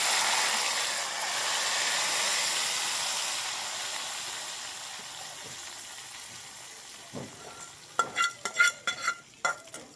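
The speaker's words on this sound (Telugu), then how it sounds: "తాలింపు పెట్టామండి ఇప్పుడైతే మేమైతే తాలింపు పెట్టేసామండి" Loud, sustained sizzling of tempering spices and curry leaves in hot oil that slowly fades, followed by several sharp scraping stirs against the pan.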